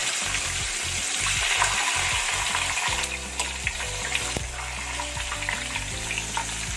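Whole squid deep-frying in hot oil, Korean style, gives a loud, steady crackling sizzle that fills the whole stretch, with a low hum and faint clatter of stirring joining partway through.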